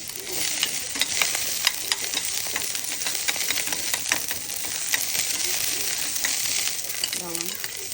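Garlic frying in hot oil for pork adobo with egg, a steady bright sizzle with scattered crackles and spatters throughout, close by, with a brief faint voice near the end.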